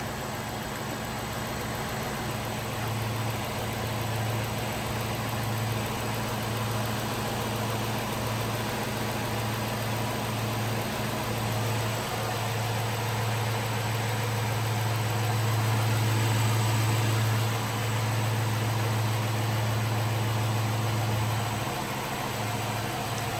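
A Chrysler 300C Hemi V8 idles steadily after a cold start, a low, even, close-up rumble with no ticking, running alone without any talk.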